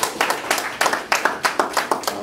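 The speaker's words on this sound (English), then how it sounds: "Can we get a round of applause?" A small audience at a community health event gives a round of applause, with distinct, uneven individual claps rather than a dense roar, moderately loud and fairly close.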